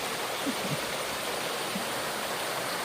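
A waterfall stream pours in a continuous, even wash of flowing water, fairly soft and distant-sounding, with no voices over it.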